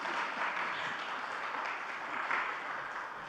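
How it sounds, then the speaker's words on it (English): Audience applause at a Yiddish song concert in a synagogue, a dense sustained wash of many hands clapping at steady moderate loudness throughout, with no talk over it. "You can clap now."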